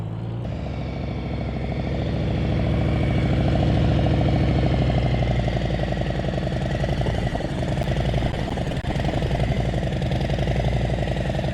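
Motorcycle engine puttering steadily at low speed during slow-speed riding practice, a continuous throbbing mid-range drone with rhythmic pulses that holds fairly loud and even throughout, with no speech.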